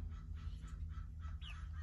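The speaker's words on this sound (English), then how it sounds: "Hi, chickens." Poultry clucking and calling on a small backyard mini farm, several short squawks scattered across the moment over a steady low rumble of background noise, fairly close.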